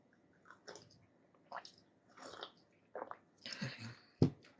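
Someone eats a home-cooked weight-loss meal. Close, wet chewing and biting come in irregular short bursts with quiet gaps between them, and one sharper crunch near the end. No one talks.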